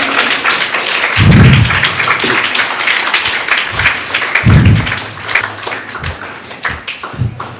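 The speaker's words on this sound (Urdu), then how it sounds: "زوردار تالیاں ہو جائے ہمارے میڈم کے لیے." A school gathering for the madam breaks into loud applause, with dense clapping and scattered heavy thumps rising in two bursts before thinning out toward the end.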